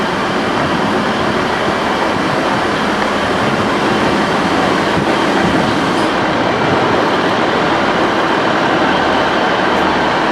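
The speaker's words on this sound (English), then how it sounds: "There's my train," A train at a Leeds station platform gives off a loud, steady rumble and hum, with faint rail clatter holding at a constant level and no voices.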